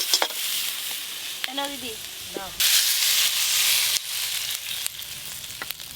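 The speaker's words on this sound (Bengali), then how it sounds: "এই যে গোটা মশলাগুলো সব ভালো করে ভেজে নিয়েছি" Whole spices are fried and stirred in a pan, a loud close sizzling hiss that swells and dips with scraping stirs, and a short spoken exchange is heard.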